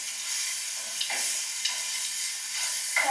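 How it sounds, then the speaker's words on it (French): Almonds being stirred into caramelizing apples in a pan for Breton crêpes, a steady close sizzle with soft scraping stirs and a few brief clinks, no talking. "Maintenant, je vais mettre quelques amandes, des amandes. Et je vais recommencer à mélanger."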